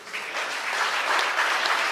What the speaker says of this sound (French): il faut encore l'applaudir